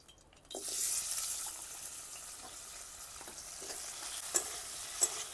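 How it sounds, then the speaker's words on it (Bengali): Potatoes sizzle steadily in oil previously used for frying rohu fish, a bright constant hiss with a couple of sharp clinks near the end. "এখন মাছ ভাজা তেলের মধ্যে আলুগুলি বেজে নেব"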